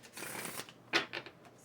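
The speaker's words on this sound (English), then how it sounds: "While I shuffle your cards." A deck of tarot cards shuffled by hand during a reading, giving several close, soft riffling and slapping bursts in quick succession, fairly quiet with no talking.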